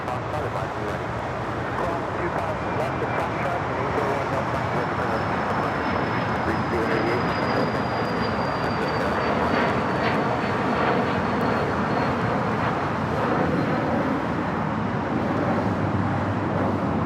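An airliner climbs away from LAX after takeoff, its jet engine noise a broad, sustained rumble with a faint whine that slowly shifts in pitch as it passes, set against distant traffic and occasional voices.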